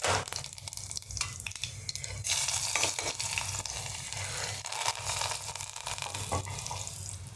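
Garlic and curry leaves fry in hot oil with mustard seeds and cumin in a pot for tomato amti. A steady, close sizzle continues with intermittent scraping and stirring sounds.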